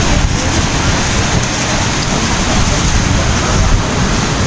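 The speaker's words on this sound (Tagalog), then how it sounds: "Lakas ang alon." Strong ocean surf rolls onto a beach at San Juan, La Union, a steady loud roar of breaking waves with wind rumble throughout, no clear voices.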